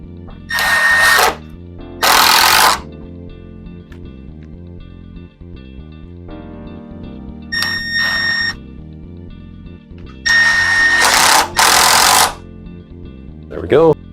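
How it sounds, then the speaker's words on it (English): Power drill fitted with a countersink bit, used while assembling a pocket door: several loud, high whirring bursts of a second or two each, separated by quiet gaps, close to the mic. "I'm using a countersink bit, so my screw heads are hidden below the surface."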